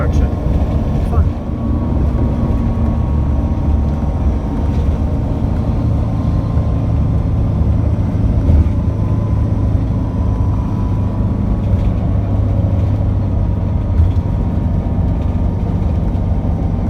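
Interprovincial bus driving out of Shanghai, China, with a loud, unbroken engine and road drone inside the cabin and deep rumble throughout.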